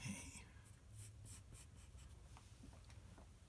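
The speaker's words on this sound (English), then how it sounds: "let's erase that line that goes right across" Pencil eraser rubbing out a line on paper while drawing a spider monkey, giving soft, faint scratchy strokes, very quiet and close.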